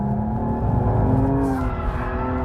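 A BMW 235i engine held flat out at about 6,500 RPM while drifting gives a loud, sustained, strained roar with slightly wavering pitch.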